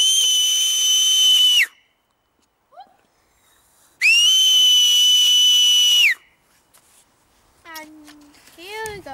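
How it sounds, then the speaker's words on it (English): A person gives two long, loud, piercing high-pitched whistles outdoors to call horses in from a field, each lasting about two seconds and separated by a pause, followed by a few fainter, shorter whistled chirps. "It's going to be quite loud when I whistle because it's going to be one of those penetrating high whistles."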